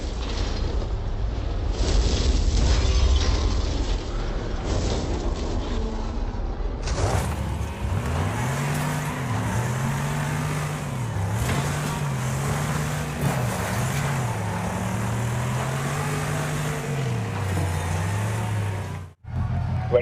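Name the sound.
cars racing in a demolition derby, from a racing video game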